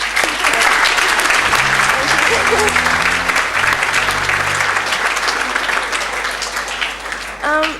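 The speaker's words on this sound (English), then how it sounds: "So I think we should all give them a round of applause." A hall full of people at an awards ceremony breaks into sustained applause, dense and fairly loud, with a low musical tone under it early on and the clapping thinning toward the end.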